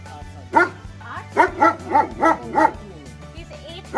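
Max, an 8-month-old puppy, lets out five or six loud, close barks in an uneven run, spaced over a few seconds with faint sounds between them.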